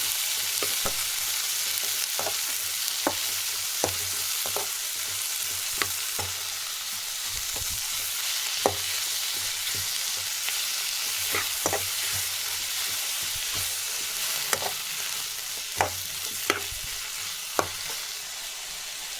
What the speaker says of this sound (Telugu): టెంకాయ యాడ్ చేసుకొని ఫ్రై చేసుకుంటాము.